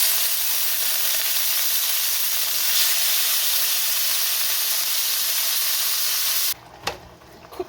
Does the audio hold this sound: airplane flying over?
no